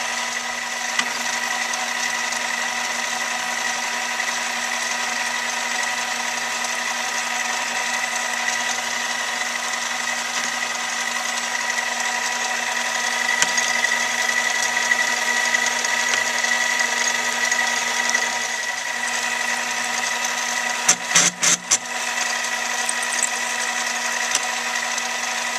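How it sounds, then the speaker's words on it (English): Steady mechanical whine of a lathe drilling a hole with a constant hum, with a brief cluster of clicks and rattles near the end. "last operation on the lathe here would be to drill the hole to put the wires through"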